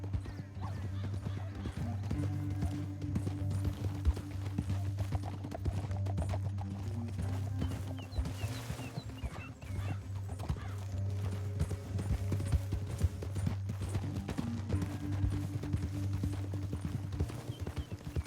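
Steady clip-clop of galloping horse hooves in Red Dead Redemption 2 runs throughout beneath a dense orchestral music bed, with a brief whinny-like flourish partway through.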